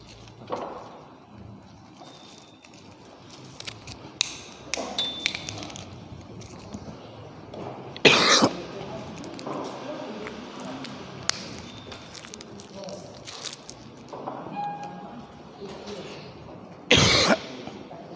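A couple of sharp coughs burst out amid quiet background sounds and occasional clatter, with a voice speaking softly at times.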